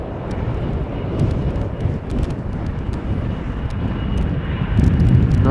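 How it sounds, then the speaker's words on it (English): An Airbus A330 climbs out after takeoff at Schiphol, its engines a loud, steady roar that swells slightly toward the end, with some wind noise. "another A330 retracting the landing gear normally"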